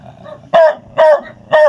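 A dog barks three times in quick, evenly spaced bursts, loud and close, with a low growl rumbling between the barks.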